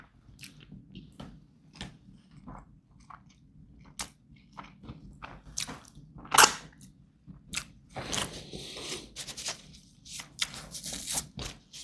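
Someone chews and bites into MRE Southwest beef stew with cheese and a tortilla, giving close, irregular crunchy and wet chewing bursts separated by brief quiet gaps.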